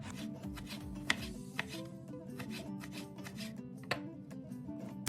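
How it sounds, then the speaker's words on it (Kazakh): A knife slices a vegetable lengthwise on a board for a hot salad, with quick, regular strokes tapping close by and a soft scraping between them. No one speaks. "Оны да осылай ұзынша етіп турап алыңыз."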